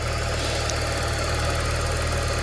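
A used car's engine runs at idle, a close, steady mechanical hum with a fine repetitive ticking and vibration, with no talk over it.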